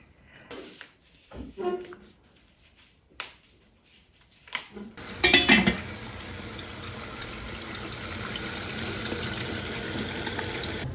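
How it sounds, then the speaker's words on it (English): A pot of salted water comes to a rolling boil on a kitchen stove for cooking nettles. A few clicks and clatters come first, then a steady, close bubbling hiss continues to the end. "The water is boiling."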